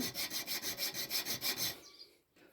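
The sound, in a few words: round chainsaw file engraving metal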